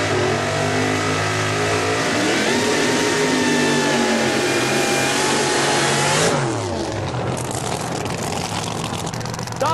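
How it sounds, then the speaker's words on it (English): Drag racing cars roar through burnouts in the bleach box, a loud continuous engine howl with revving that holds steady and then drops sharply near the end. "And here we go, it's burnout time."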